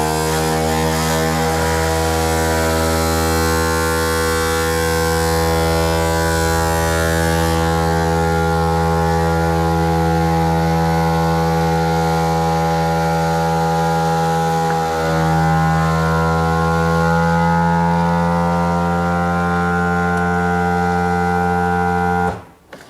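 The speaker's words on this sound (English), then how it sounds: "the pump will kick in" A Vaquform DT2 vacuum former's pump runs while forming a 1/28 scale Chevrolet Camaro super saloon shell, giving a loud, steady droning hum with strong harmonics that holds for over twenty seconds and cuts off abruptly at the end.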